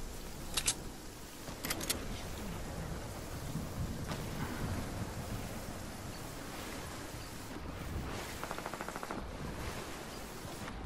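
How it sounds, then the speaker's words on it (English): Steady rain during a storm in the Fortnite video game, a constant hiss of falling water, with a few sharp gunshot-like cracks early on and a rapid burst later. "I like the rain. It's nice."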